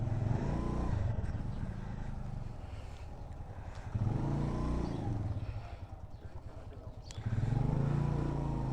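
Motorcycles are ridden and parked in a hillside parking area at Fort Munro, engines idling and revving in swells that rise and fall three times, fairly close and loud, with low mechanical rumble throughout.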